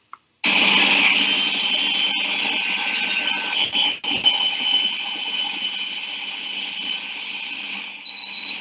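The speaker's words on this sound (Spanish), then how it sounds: "Queda bien duro y vamos con el microqueratoma, que generalmente suena así" A microkeratome cutting eye tissue during eye surgery gives a steady, high-pitched mechanical whir running continuously for several seconds, with a couple of brief dips and a faint tonal beep near the end.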